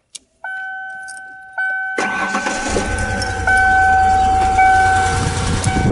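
Keys jangle and chime, then a car engine fires up and settles into a loud, steady high idle close by with a tonal whine running over it.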